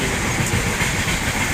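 The fully air-conditioned Tejas Express rushes past close by, a dense steady rumble and rattle of wagons with a hissing edge throughout.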